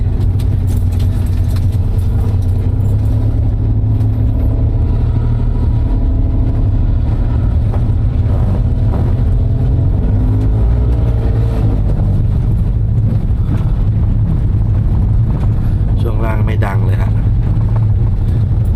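A Daihatsu Mira L80 with a 660cc turbo engine and automatic gearbox drives along, giving a steady, close low engine and road drone from inside the cabin that holds evenly throughout.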